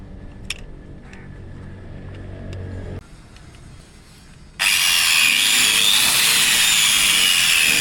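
Angle grinder fitted with a flap disc: quiet handling and tapping at first, then a brief lower whir, before the grinder spins up into a loud, steady, high-pitched grinding roar that runs to the end.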